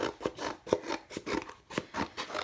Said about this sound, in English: we're going to cut out this part and weed it real quick